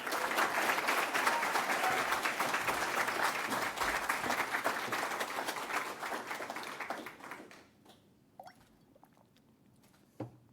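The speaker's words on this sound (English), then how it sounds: "big round of applause to all of our winners tonight and honorable mentions" Audience at a digital inclusion awards ceremony in Nova Scotia applauds the winners and honorable mentions, a full sustained round of clapping that thins out and fades to a few scattered claps near the end.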